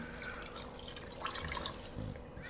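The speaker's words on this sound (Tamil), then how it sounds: "இன்னும் அரிசி வந்து செட் ஆகிட்டு இப்போது தண்ணி ஊற்றலாம்." Water pours into a cooking pot of rice with a steady, soft splashing stream that stays faint and even throughout, with no talking over it.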